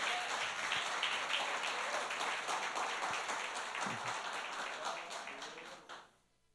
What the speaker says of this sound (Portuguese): Aplauda ao Senhor pela vida dela.